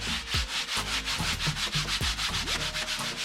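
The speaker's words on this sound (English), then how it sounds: "so I'm gonna go at it with these scrubbing towels, get them all cleaned up, get all the dirt off" Old vinyl seats from a VW Thing, left in a shed for over 30 years, being scrubbed with scrubbing towels: steady, close rhythmic rubbing strokes repeating about every quarter second, loud and continuous with no talking.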